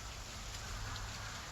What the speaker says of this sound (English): it's just sleeting like crazy right now